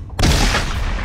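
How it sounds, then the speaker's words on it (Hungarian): A single loud gunshot boom in a narrated horror story, sudden and heavy, with a booming tail that rings out over the following second. "Elsütöttem a fegyvert, és Peter félfeje eltűnt."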